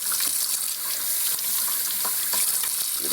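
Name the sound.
tap water washing cut-up rabbit pieces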